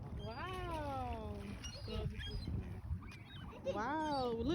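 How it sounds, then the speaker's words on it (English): Several geese honk in loud, drawn-out calls at the start and again at the end, with a quieter stretch of ambient noise between them. "Oh, look, the geese came."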